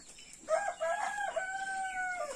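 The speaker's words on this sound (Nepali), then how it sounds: "बासिरहेछ। यो कुखुरा चाहिँ छोडिदिनु भएको छ।" A rooster crows once in a village farmyard in Jhapa, Nepal, a loud, close, drawn-out cock-a-doodle-doo that rises and then holds a long, sustained final note over quiet background noise.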